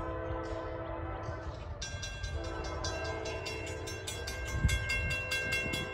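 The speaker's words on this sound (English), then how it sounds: "we got a northbound CSX coming up" A northbound CSX freight train rolls past at a crossing, its horn blaring in long sustained blasts over the heavy rumble and clatter of rail cars, loud and close throughout.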